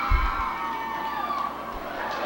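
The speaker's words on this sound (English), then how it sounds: "This is the moment where you really got to feel the energy of the crowd." Wrestling arena crowd roaring and cheering at a tag-team match, a steady dense wash of many voices with a couple of low thumps near the start and no single voice standing out.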